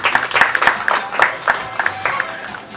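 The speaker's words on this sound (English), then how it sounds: "And another round of applause for the Caribbean flamingos." An audience at a Caribbean flamingo show at Ardastra Gardens zoo in the Bahamas claps, an uneven spatter of nearby hand claps rising and fading over a few seconds, with a voice heard faintly underneath.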